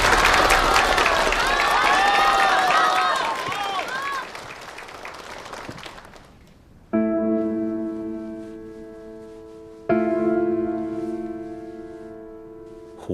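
A crowd at a silk-cloth judging event claps and cheers loudly for about six seconds, then the applause fades and gives way to sustained tonal sounds, probably voices.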